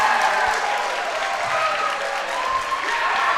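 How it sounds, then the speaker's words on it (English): A crowd at a unified basketball tournament game applauds, producing a dense, steady wash of clapping that fills the whole moment at a moderate distance. "she gets applause from the Ludlowe crowd as well"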